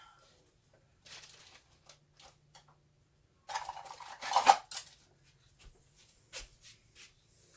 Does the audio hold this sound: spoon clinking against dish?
yes